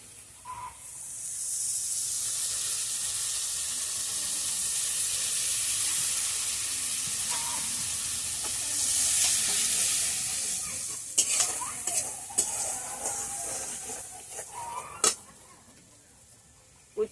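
A spice paste of ground coriander, cumin and chili mixed with water hisses loudly as it hits a hot pan for a brinjal curry, a broad sizzle that fades slowly, then stirring clatters and scrapes.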